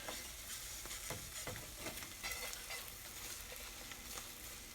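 Eggs frying in a pan for musubi, a steady sizzle with scattered spatula scrapes and taps as they are rolled over, close and moderately quiet with no talking.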